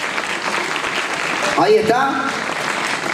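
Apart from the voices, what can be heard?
audience applause for a dancer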